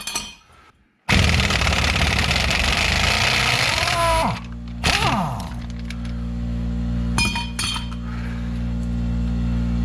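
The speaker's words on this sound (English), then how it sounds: "I'm going to get the impact wrench out and blast it out the rest of the way now" An impact wrench blasts loudly for about three seconds while removing the rear wheel bearing on a Jeep Patriot, then stops. Short follow-up bursts and metallic clanks come next, with a steady low hum lingering afterward.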